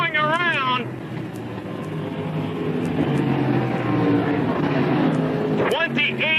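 Modified race cars roar around an oval track at a night feature event, a loud sustained engine drone from a passing pack under an announcer's amplified commentary, with speech at the start and end.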